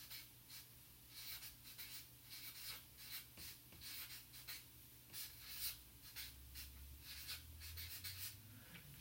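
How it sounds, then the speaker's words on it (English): A pencil sketches a triangular prism on grid paper, soft scratchy strokes rubbing back and forth in quick repeated bursts, close and quiet over a low background hum. "First thing we're going to do is draw a triangular prism"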